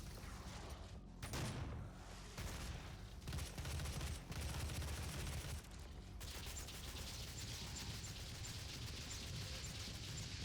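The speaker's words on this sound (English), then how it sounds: "Micro missiles for days" Micro missiles fire from a weapon in the video game Doom 2016. A dense, loud, continuous barrage of rapid blasts and mechanical clatter runs almost unbroken, with no talking.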